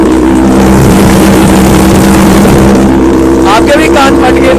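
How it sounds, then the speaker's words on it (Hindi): Kawasaki ZX-10R superbike engine on a cold start, a very loud, close, continuous roaring idle with rising revs, and a voice speaks briefly near the end. "तो चलो गाइस अब 10R को कोल्ड स्टार्ट करते हैं।"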